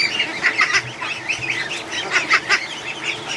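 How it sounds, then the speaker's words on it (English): Muscovy ducks crowd a duck house, quacking and honking loudly and close by in repeated overlapping bursts with short pauses between them. "They're trying to quack so hard."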